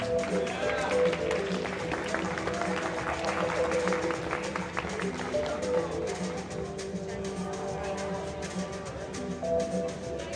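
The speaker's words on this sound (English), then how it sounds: "Let's get those hands clapping one more time for Mr. Ajay Kumar." An audience at a sangeet claps for the groom's uncle, a steady wash of applause and crowd noise that continues for several seconds and slowly thins out.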